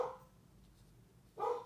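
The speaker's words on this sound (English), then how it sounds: "Why is my dog barking so much?" A pet dog barks indoors with the neighbors nearby, giving two short, fairly close barks separated by a pause of just over a second.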